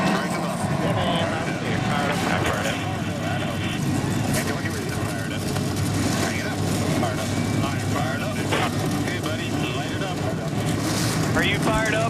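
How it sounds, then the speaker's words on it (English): The engines of 42 race cars roar to life at the 2011 New England 200 stock car race in New Hampshire, a dense, sustained rumble beneath an announcer's loud commentary. "Engines come to life on the 42 cars in the field here"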